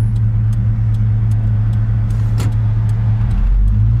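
A gold and beige 1956 Chevrolet Bel Air two-door post idles with a steady, loud low rumble that holds throughout, then deepens slightly near the end as the engine is revved, with no talk over it.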